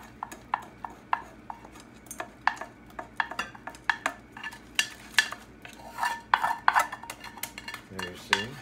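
A spoon or utensil stirs and scrapes in a bowl as liquid is worked gradually into a hardened cornstarch mixture for blueberry pie filling, giving a steady run of close, crisp clinks and taps with no talking.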